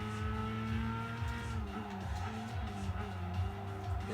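A Peugeot 207 in the racing video game Gran Turismo 5, its engine droning loudly and continuously with rising and falling revs, and occasional tire squeal, without speech.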